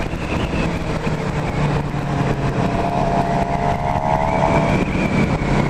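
2016 Suzuki GSX-R 750 sport motorcycle with 161 miles accelerating on a ride, a loud continuous engine roar climbing through the revs amid wind rush, close and steady without speech.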